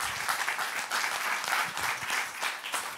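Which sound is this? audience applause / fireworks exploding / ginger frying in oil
audience applause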